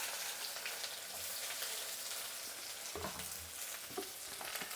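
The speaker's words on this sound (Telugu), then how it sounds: "ఇప్పుడు ఆవాలు చిట్లింది, ఎర్రగడ్డలు వేసుకుందాము." Onions and mustard seeds frying in a pan for a Telugu dish, giving a steady broad sizzle with a few sharper pops and crackles, close and alone without speech.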